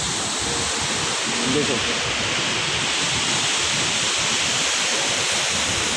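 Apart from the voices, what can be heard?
flooded waterfall rushing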